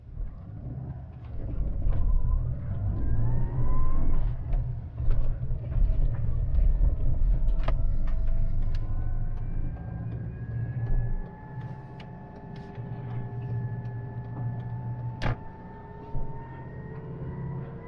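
A Great Wall Wingle campervan with a 2.4 litre petrol engine driving, its low engine drone steady and loud at first and then easing into a softer hum with rising whine tones and occasional ticks and knocks from the cabin, with no talking.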